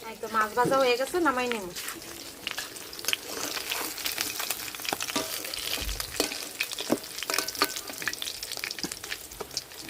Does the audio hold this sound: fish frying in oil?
yes